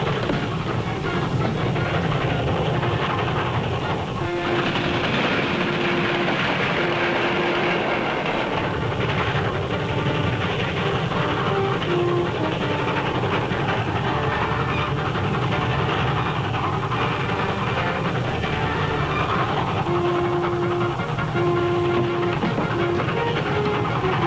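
An old-time train, carrying a powder car toward a tunnel, runs steadily along its rails in a 1941 western, with a continuous loud rumble, rhythmic clatter and a few brief whistle-like tones throughout.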